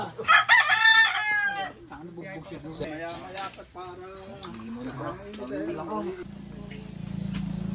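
A rooster crows loudly up close at the start, then people talk over quieter background noise.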